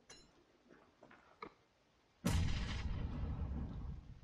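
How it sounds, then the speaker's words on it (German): A grenade explodes in PlayerUnknown's Battlegrounds with a sudden loud blast, followed by a long, dense rumble. Small ticks and clicks come before it in a quiet stretch. "Ja, ich hab ne Granate geschmissen"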